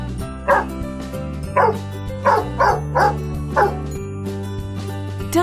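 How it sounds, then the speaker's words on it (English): A domestic dog on a farm barks about six times in a steady rhythm, each bark sharp and close, over a constant low musical backing. "Dog."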